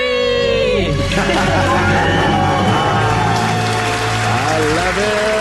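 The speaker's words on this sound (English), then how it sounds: "Let's hear a debt-free scream." Loud crowd screams and whoops from a couple celebrating becoming debt free, sustained cheering with music underneath throughout.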